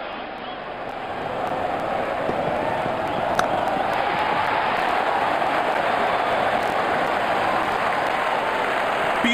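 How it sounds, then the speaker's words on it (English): A cricket stadium crowd in the Sachin Saga Pro Cricket video game cheers in a dense, steady roar that swells slightly and holds loud throughout. "The crowd is going crazy."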